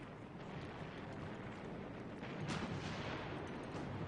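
Tank gunfire in a Korean War battle sounds as distant, muffled booming against a constant rumbling roar, with one somewhat stronger blast midway through.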